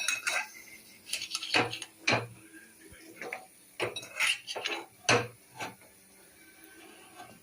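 Fried ingredients for ravva laddu are scraped from a ghee-coated kadai back into a bowl, making a close series of metallic clinks, scrapes and knocks in irregular bursts, with no talking.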